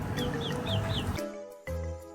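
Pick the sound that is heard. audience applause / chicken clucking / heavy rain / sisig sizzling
chicken clucking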